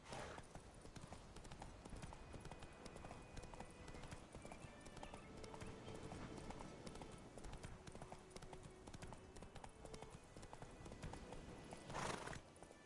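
Hooves of the horse in The Witcher 3 clip-clop steadily at a gallop for the whole stretch, with a whinny near the end, all at a constant close game-audio level.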